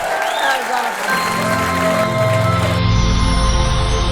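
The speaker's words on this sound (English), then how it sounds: "Don McMillan, clap your hands, let him hear you." Loud audience applause fills the room at a stand-up comedy show for Don McMillan, a continuous roar of clapping with some cheering mixed in.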